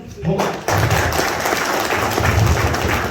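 An audience at a speaking event in Manali breaks into applause after a short quiet start, and the dense clapping holds steady and loud, with some thumps mixed in.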